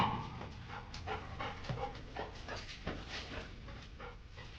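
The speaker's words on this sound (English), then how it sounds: "I got 4 troublemaking dogs running around out here." Several dogs pant rapidly close by outdoors beside a smoker, breathy rhythmic huffing with occasional soft whimpers, no voices heard.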